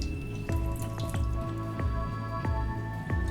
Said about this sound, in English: Then I'm going to go ahead and juice a pink grapefruit.